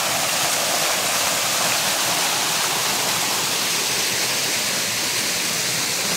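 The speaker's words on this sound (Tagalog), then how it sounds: "Lakas ng tubig." Loud, constant roar of strong rushing water from a forest waterfall, close and unbroken for the whole stretch.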